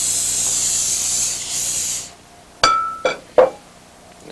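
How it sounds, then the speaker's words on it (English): Cooking spray hisses steadily for about two seconds over breadcrumbed chicken, followed by three sharp clinks of a glass or metal dish, close and clear. "Give it another spray."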